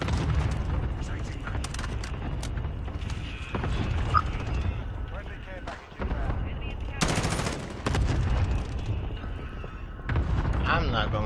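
Shotgun blasts and gunfire from a PS4 video game: a loud, dense stream of booming shots and mechanical clatter that runs throughout, with someone talking over the action.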